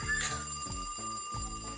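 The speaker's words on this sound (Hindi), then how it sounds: "अरे देखो तो ये दूध वाली का फोन आ रहा है" A phone rings in a home, a bright electronic ringtone repeating in quick pulses, close and steady, with a low hum beneath it.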